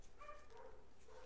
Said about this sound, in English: again, sorry about the dogs